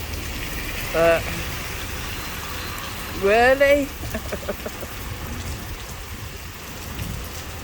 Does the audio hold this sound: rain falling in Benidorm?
yes